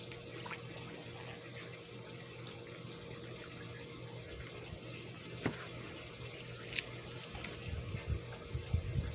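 Water is poured into plastic tubing for a homemade bee waterer, making a steady, close trickling rush with a few small splashes and clunks toward the end.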